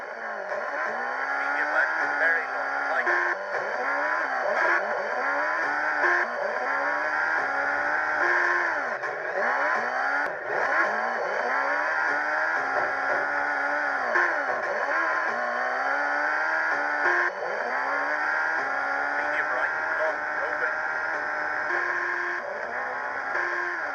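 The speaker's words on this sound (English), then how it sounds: "every time you pull the brake, the car defaults to full revs" Car engine in the Dreamcast rally game V-Rally 2 holding at full revs under braking, a steady high-pitched drone with wavering harmonics running throughout, loud and continuous with a voice talking over it.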